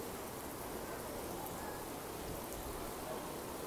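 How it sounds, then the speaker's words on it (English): Steady, even hiss of rain falling, a continuous wash of noise with no breaks and no voices. "It is still raining"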